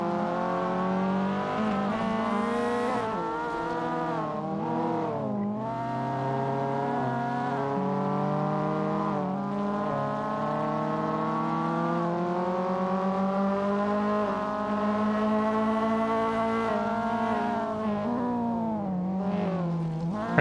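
Two race cars in an Assetto Corsa touge run, a red H6 chasing a white EK9, with engines droning and shifting pitch continuously at steady, loud volume throughout, rising and falling as they work through the gears.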